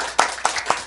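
A few separate hand claps ring out in a church Friday worship service, three sharp, evenly spaced slaps with no voices over them.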